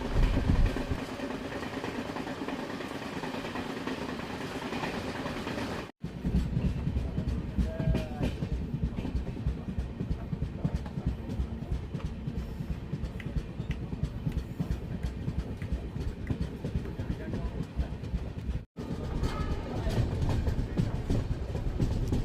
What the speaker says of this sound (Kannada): ನಮ್ಮ ಟ್ರೈನ್ ಈಗ ಬಾಗೇವಾಡಿ ರೈಲ್ವೆ ಸ್ಟೇಷನ್ನ ಸ್ಕಿಪ್ ಮಾಡ್ತಿದೆ